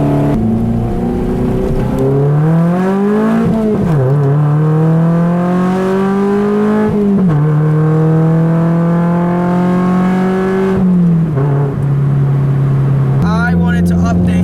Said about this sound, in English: That's a proper car noise.